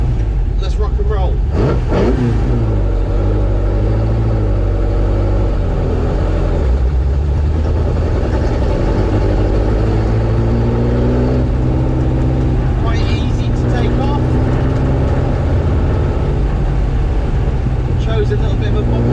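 A 1966 Ford GT40 Mk1 engine drones steadily and loudly from inside the car while driving, rising and falling with the throttle, with someone talking over it throughout.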